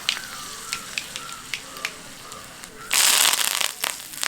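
Mustard seeds and dried red chilies spluttering in hot oil for an okra masala, a steady scatter of sharp pops and crackles that swells into a dense, loud sizzle near the end.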